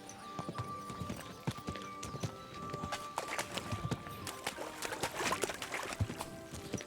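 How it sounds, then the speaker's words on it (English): A horse's hooves clip-clopping at a steady walk through raw sewage in the video game Kingdom Come Deliverance 2, a continuous rhythmic run of close hoofbeats with no talking. "That was me riding my horse through raw sewage."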